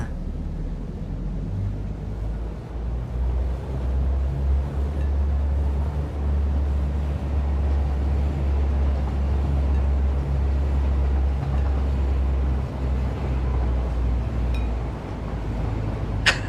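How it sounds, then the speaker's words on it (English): A personal train ride in the video game Satisfactory: a steady low rumble and rolling drone of the moving train lasting throughout, loud and continuous with no talking. "Hop in the personal train."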